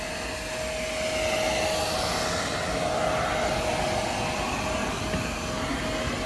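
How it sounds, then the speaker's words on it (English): A Hoover vacuum cleaner runs inside a 2023 MegaMobil Mega Classic campervan with a steady, unbroken whooshing roar and a thin constant whine through it, close and even throughout, with no talking. "And this Hoover is being in action."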